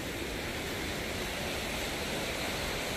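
A continuous, even roar of rushing water from Killdew Falls at McConnells Mill State Park, Pennsylvania, heard from nearby, with no other sounds.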